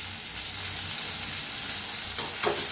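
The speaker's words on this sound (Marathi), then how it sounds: "तर मिक्स करून भाजूया." Mashed brinjal bharit is stirred and roasted in a pan, giving a continuous soft sizzle with scraping stir strokes and a couple of louder spoon scrapes near the end, close up and without speech.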